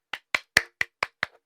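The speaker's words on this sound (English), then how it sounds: "Can we hit the clap button so you get a round of applause?" Six crisp claps fire at an even, quick rhythm from a clap-button effect, each a short sharp snap with a fast decay and clear silence between them.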